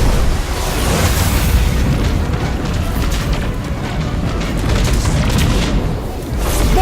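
Loud, dense rumbling blasts of missile explosions in the Destiny 2 game, a continuous booming barrage with scattered pops and bursts filling the whole stretch.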